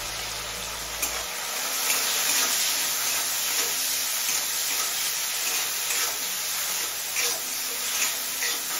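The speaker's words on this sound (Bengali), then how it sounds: "চিংড়িটা মিনিট দিয়ে ভেজে নিয়েছি" Prawns fry in a pan with salt and turmeric, giving a steady, close hiss of sizzling that runs unbroken throughout, with faint scrapes now and then.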